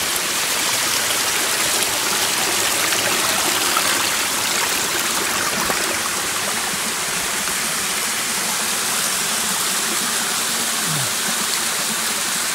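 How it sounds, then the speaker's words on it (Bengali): The Ruposhi waterfall on a forest trail rushes in a broad, steady roar of falling and flowing water, loud and close, continuing without a break for the full stretch. "অনেক সুন্দর ঝর্ণাটি"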